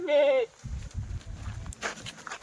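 A single loud, wavering bleat from a Kathiawadi dairy goat up close, followed by low rumbling noises and brief soft sounds.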